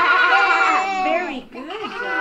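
A young child in a church babies class imitates a sheep, giving a loud, close, wavering bleat-like cry that dips and rises again over about two seconds.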